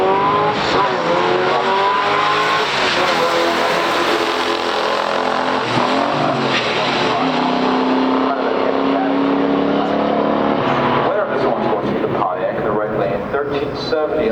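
A stock 1970 Pontiac GT-37 and a 1968 AMC AMX run a quarter-mile drag race: loud, continuous engine roar with rising revs and gear changes under a commentator's voice, all at close range.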